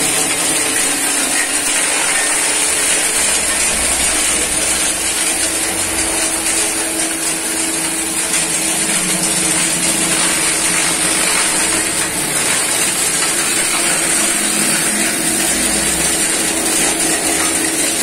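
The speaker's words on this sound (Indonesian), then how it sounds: "digiling dulu menggunakan mesin pencacah daun ini" A leaf shredder machine grinds dry teak leaves for compost, giving a steady, loud, continuous mechanical whirring and rattling roar that holds evenly throughout with no talk.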